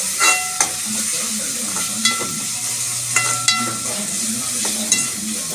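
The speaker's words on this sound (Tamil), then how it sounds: "இப்போ இந்த ஸ்டேஜில் வெங்காயம் போட்டு" Shallots sautéing in a pan with tomatoes, a steady close sizzle broken by several sharp stirring scrapes and clicks of the spoon, with no talking.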